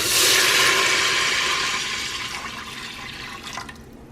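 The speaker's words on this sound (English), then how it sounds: "now I'm going to add my water into the Instant Pot" Water is poured into an Instant Pot, giving a loud, rushing splash that fades and thins out over a few seconds. No one speaks.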